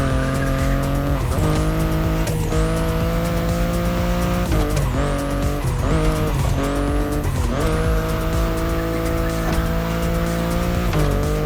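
BMW i8 in the racing video game The Crew Motorfest, its engine holding a loud steady tone while tires squeal in repeated sharp bursts through hard cornering, with no talk.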